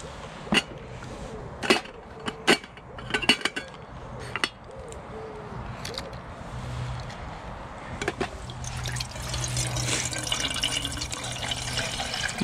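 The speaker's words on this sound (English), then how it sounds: "And you want to fill the water up to about here." Water running and trickling into a kettle outdoors at a camp fire site, a steady pouring wash that builds louder toward the end, with scattered knocks and handling clatter throughout.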